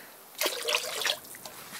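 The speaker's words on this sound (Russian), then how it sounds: "И вливаем в 10-литровое ведро воды." Liquid yeast fertilizer for strawberries is poured into a 10-litre bucket of water, making a short, faint trickling splash that fades to a quiet dribble.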